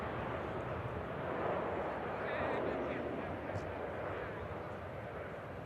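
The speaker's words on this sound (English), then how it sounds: "Junyao Dreamliner just rolling on 23 left." A Boeing 787 Dreamliner rolls down runway 23 left at Manchester Airport on its takeoff run, a steady broad engine roar heard from a distance, holding level throughout without other voices.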